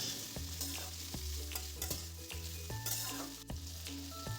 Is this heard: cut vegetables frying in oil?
yes